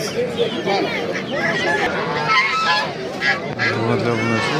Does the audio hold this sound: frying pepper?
no